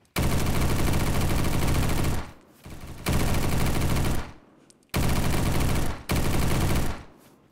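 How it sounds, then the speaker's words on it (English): MG42 German WWII machine gun in Roblox Bad Business, firing loud sustained bursts of several seconds each with brief pauses between, close and harsh. "That's freaking German World War II machine gun."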